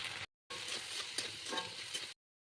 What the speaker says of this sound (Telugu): మరో 5 నిమిషాలు వేయించాలి.